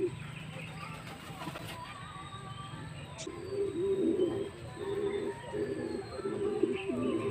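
A slow racing pigeon, back home after a derby lap, coos in low repeated rounded phrases up close, with faint background ambience.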